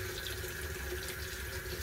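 Tap water runs steadily during washing at a sink, a continuous close rushing hiss at moderate level with no voices over it.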